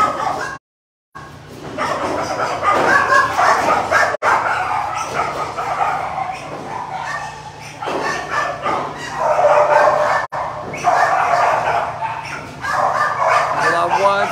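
Puppies at an animal shelter barking, yipping and whimpering in repeated close bursts, with people talking over them throughout and a brief dropout near the start.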